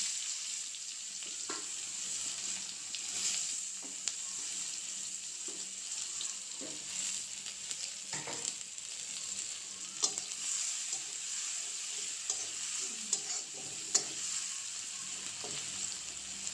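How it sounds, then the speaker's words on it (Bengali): Chopped onions frying in a wok, a steady close sizzle running throughout with occasional sharp clicks and scrapes of stirring. "পেঁয়াজগুলো একটু ভাজি ভাজি করে নেব"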